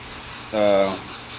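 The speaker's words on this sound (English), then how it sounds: "I have carburetor cleaner. I'm gonna spray this thing down" One short, close spray burst from an aerosol can of carburetor cleaner on a 1977 Buick LeSabre 350 engine, lasting about half a second amid quiet background.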